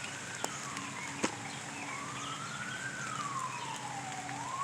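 An emergency siren wails outdoors, a steady rising and falling tone sweeping up and down for several seconds at moderate distance, sounding alone without talk.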